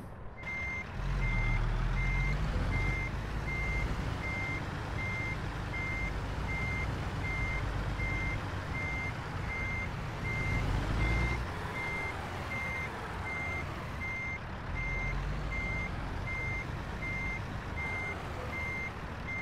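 A truck reversing in American Truck Simulator emits a steady, evenly spaced series of backup beeps over a constant engine rumble, lasting the whole stretch without voices.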